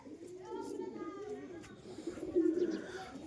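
A pair of Teddy pigeons, held in someone's hands, coo close by. Soft, low, throaty coos roll out in repeated waves, and one swells louder near the end.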